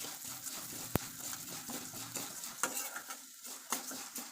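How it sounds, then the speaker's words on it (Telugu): A spatula scrapes and stirs chana dal, urad dal and coriander seeds as they fry in a pan for curry leaf powder, with steady clinking strokes and a light sizzle, close and moderately quiet with no talk. "ఇవి కూడా ఫ్రై చేసుకోవాలి కలుపుకుంటూ ఫ్రై చేసుకోవాలి"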